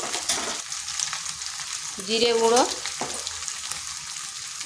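Spice powders fry in oil with ginger and garlic for a chicken dish, giving a steady, close sizzle. A person speaks briefly over it, and a short squeaky tone cuts through midway.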